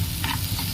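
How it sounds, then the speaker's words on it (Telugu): Tomatoes and onions sizzling in a frying pan with a brief stir, close and steady, no voices. "ఆనియన్స్ అనేది ఫ్రై అయినాయి కదా, ఇప్పుడు అనేది మనం టమాటోస్ అనేది యాడ్ చేసుకున్నాం"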